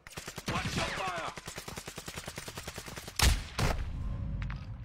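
Rapid gunfire from Call of Duty Warzone 2.0, a dense run of regular automatic-weapon shots followed by two louder bursts, with a voice faintly underneath.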